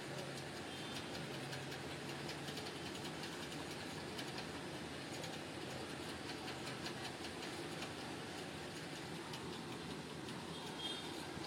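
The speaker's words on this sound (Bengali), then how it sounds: "ট্রেন টানেলের মধ্যে ঢুকে গেছে।" A hill toy train near Coonoor runs inside a tunnel on its forest route, making a steady, enveloping rumble and clatter that holds evenly throughout with no voices.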